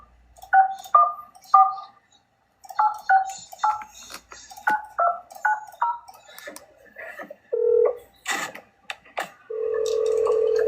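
Phone call to a Motel 6: a fast series of touch-tone dialing beeps in bursts, then clicks and a steady ringback tone, clear and close with no talking.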